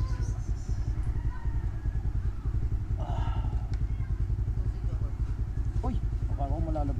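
A motorcycle engine drones loud and steady throughout a ride, with a rough rhythmic pulsing and wind rush, while a voice speaks briefly near the end.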